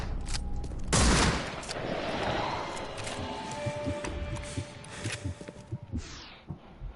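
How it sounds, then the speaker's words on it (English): Shotgun blasts in The Sinking City video game, one loud, broad burst near the one-second mark followed by dense crackling game noise and further sharp impacts fading out toward the end. "Shotgun."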